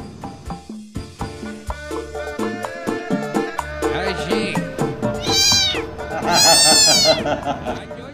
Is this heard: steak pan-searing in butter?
no